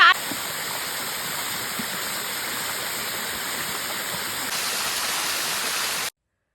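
Waterfall where people are eating lunch and bathing: a steady, close rush of falling water that fills the whole clip, then cuts off abruptly at the end.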